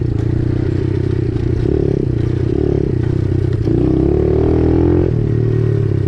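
A pit bike engine sounds loud and close while being ridden, a steady rough drone that climbs in pitch as the throttle opens, with some clatter from the ride.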